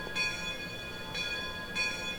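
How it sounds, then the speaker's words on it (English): A WVRR 2-8-2 steam locomotive bell in the Trainz 2019 simulator rings steadily, three clear metallic strikes spaced about a second apart, each leaving a sustained ringing tone at moderate, fairly faint volume, with no talking. "Not a half bad sounding bell."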